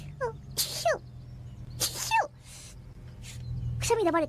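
Several short human sneezes, some stifled and squeaky, come in bursts with pauses between them over a steady low hum, collected from virtual streamers for a sneeze awards roundup.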